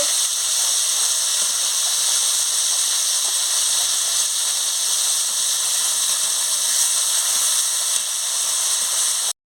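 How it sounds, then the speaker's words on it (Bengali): Paneer frying lightly in oil in a pan: a loud, continuous, even sizzle close by, steady throughout without pauses. "আমি পনিরটাকে ভেজে নিচ্ছি হালকা হালকা করে।"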